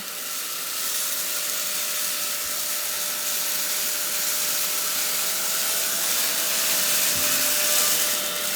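A cordless handheld vacuum cleaner runs on its second speed, a steady loud whining hiss with a constant tone, briefly disturbed by small bumps as it picks up buckwheat.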